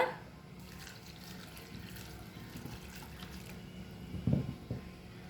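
Water is poured into a pot of buttermilk curry (moru curry), making a faint, continuous trickle and splash that swells briefly near the end; no voices are heard.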